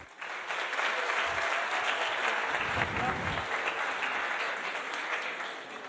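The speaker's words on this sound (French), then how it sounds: "Je vous demande d'applaudir Larsen Mustafa." An audience applauds a breakdancer introduced at a Paris 2024 Olympics presentation, a dense, steady burst of clapping that swells quickly and holds for several seconds, with a few low thumps near the middle.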